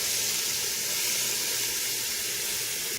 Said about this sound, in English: I'm gonna go ahead and throw in my onion in there to saute it.